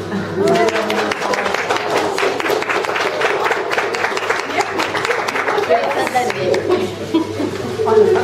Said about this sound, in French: il y a lieu d'applaudir maintenant notre doyenne Edmé